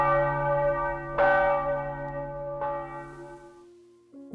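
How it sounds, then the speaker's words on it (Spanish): Church bells ring out loudly, with sustained harmonic tones and a second strike midway, the ringing slowly decaying into silence. "Un estrépito de campanas la hizo enmudecer."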